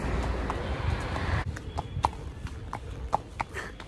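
Horse hooves clip-clop in a quick, uneven rhythm during a horse ride at Ooty, with a loud noisy rush for the first second and a half before the steps ring out clearly.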